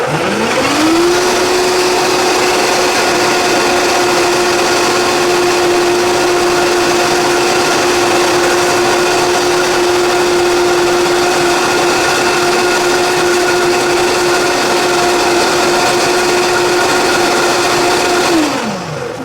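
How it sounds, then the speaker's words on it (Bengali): A blender whirs steadily at high speed, blending fresh peanut butter and fresh banana into a smoothie base, starting up sharply, holding a loud constant whine for about seventeen seconds, then winding down. "এটাকে ব্লেন্ড করবো আমরা শুধু পিনাট বাটার এবং ব্যানানা"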